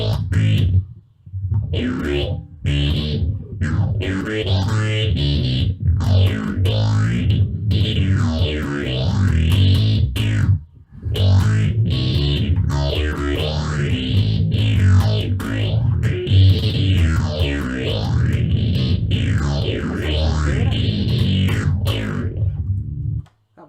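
Electric guitar riffing through cheap effects pedals and a budget amp, a loud, heavily distorted and chorused tone played continuously with brief gaps, close and alone.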